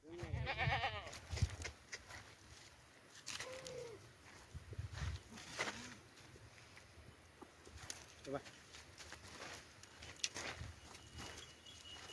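Kathiawari goats bleat a few times, fairly near, at a sale in Gangapur, over a steady background murmur and soft chatter.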